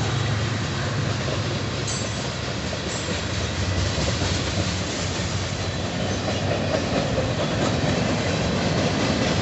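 Union Pacific locomotives pulling a northbound local freight rumble steadily past at close range, with continuous wheel noise, rail clatter and some squealing, loud and unbroken for the whole stretch, with no voices.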